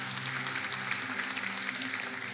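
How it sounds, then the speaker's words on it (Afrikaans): A church congregation claps together, steady, dense applause filling the room from start to finish with no speech over it. "kom ons klap vir hulle hande"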